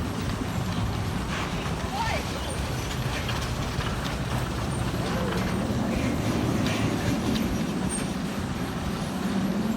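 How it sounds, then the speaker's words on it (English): A steady, heavy rumble of a classic Arrow mine train coaster at Six Flags Magic Mountain running along its track, with a rattling clatter throughout and faint crowd voices murmuring underneath. "classic Aero mine train"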